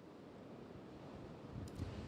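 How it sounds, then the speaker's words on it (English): Wind-driven waves from Lake Erie wash against the Geneva on the Lake shoreline in northeast Ohio, a steady low rumble of surf mixed with gusty wind buffeting the microphone, with no speech. "You could probably hear the waves of Lake Erie behind me,"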